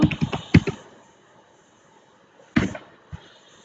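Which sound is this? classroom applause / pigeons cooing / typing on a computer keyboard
typing on a computer keyboard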